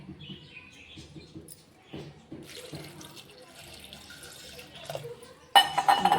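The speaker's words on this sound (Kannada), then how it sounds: "ಇದಕ್ಕೆ ಒಂದು ಸ್ವಲ್ಪ ನೀರು ಸೇರಿಸ್ಕೊಡೋಣ" Water is poured into a pot of banana curry, first quiet trickles and clinks, then a louder splashing gush near the end.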